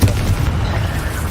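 Confringo spell explosion in Hogwarts Legacy, a short loud low boom with rumbling tail, close and alone.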